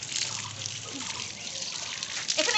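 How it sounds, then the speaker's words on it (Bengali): A German shepherd is bathed with water from a hose pipe, a steady close spray splashing and trickling over the dog's coat without a break. "দেখো বন্ধুরা আমাদের কত সুন্দর স্নান করছে পাইপ দিয়ে"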